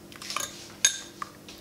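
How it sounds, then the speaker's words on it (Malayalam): A spoon stirs a yeast and warm water mixture for homemade beer, giving a few light metallic clinks against the container, one sharper and louder than the rest, over a quiet background. "ശരിക്ക് ഒന്ന് ഇളക്കി കൊടുക്കാം."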